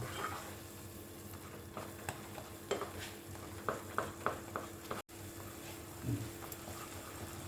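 Potato halwa cooked with ghee is stirred in a pan, with a soft sizzle under a string of scraping, knocking strokes of the spoon, close and fairly quiet, then a brief cut and a short low thud.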